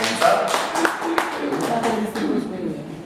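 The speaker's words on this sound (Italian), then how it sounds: "un applauso per Daniele, grazie della presenza" A brief round of clapping at a comics convention talk for a guest, scattered hand claps from a small audience with voices talking over them.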